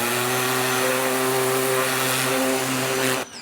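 A pressure washer sprays down a car's engine bay with a steady, loud droning hum and a hissing spray, running continuously until it stops abruptly near the end.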